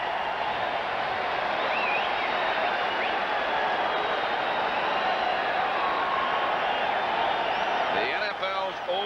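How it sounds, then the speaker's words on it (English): At a 1989 NFL game between the NY Giants and San Diego Chargers, a stadium crowd cheers in a sustained, loud roar following a touchdown, with a few whistles cutting through the broad, continuous din. "Listen to this crowd."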